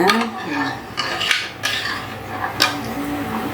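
A ladle stirring buttermilk in a vessel, with clinking metal knocks and scrapes at irregular intervals, close and fairly loud, set against faint low background noise.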